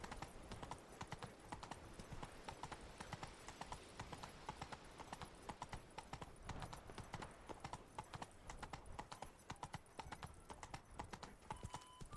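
Steady clip-clop of horse hooves on a hard road in the video game The Witcher 3: Blood and Wine, continuous and close, with a brief whinny-like call near the end and a busy ambient backdrop.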